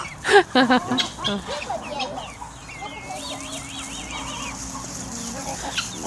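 Hens cluck in a close, loud burst of calls, followed by softer, higher chirping over a steady farmyard background.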